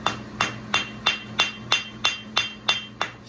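Nine sharp, evenly spaced hammer blows ring out on a steel horseshoe clip held at the edge of an anvil, each strike bright and metallic with a short decay, close and clear with no talking.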